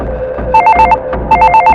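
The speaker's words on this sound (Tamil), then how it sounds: "யார் ஃபோன் அடிக்கான்" A telephone rings loudly and close, two electronic trilling bursts separated by a short pause, over a low background hum.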